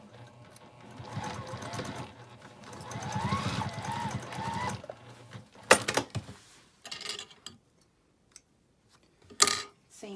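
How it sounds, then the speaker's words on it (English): A sewing machine stitches across the seam of a small fabric pouch in two quick runs, with whirring motor bursts followed by clicks and handling noises near the machine. "And just sew across that."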